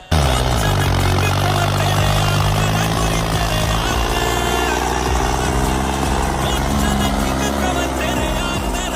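A bulldozer engine labours steadily while pulling a loaded tractor trolley uphill, a loud, continuous diesel drone with a deep throbbing rumble that holds strong for the whole stretch.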